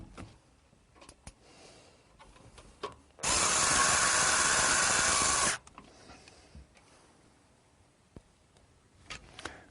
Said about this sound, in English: put in the screws.